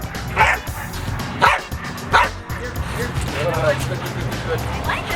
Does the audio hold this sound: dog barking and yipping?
yes